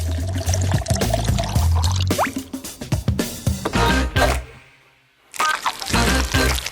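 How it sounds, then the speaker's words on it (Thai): A blended red mixture pours from a blender into a bowl: a loud, continuous stream with glugs and splashes, a brief near-silent break, then pouring resumes. "ทีนี้ก็ปิดเครื่องและเทส่วนผสมใส่ชาม"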